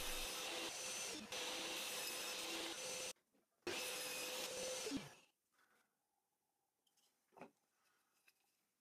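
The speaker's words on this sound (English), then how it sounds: "I set the table saw blade to a 10 degree angle and cut bevels to the leg pieces" Table saw with its blade tilted to 10 degrees cutting bevels on wooden leg pieces: two loud, whining cuts of about three and two seconds, separated by a short pause, then quiet shop noise and a faint knock.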